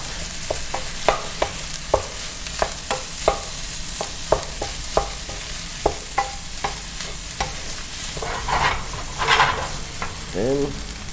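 Pre-cooked broccoli stir-fried in a wok for vegetable fried rice, with sharp spatula scrapes and clanks in an uneven rhythm over a steady sizzle, swelling into louder frying bursts near the end.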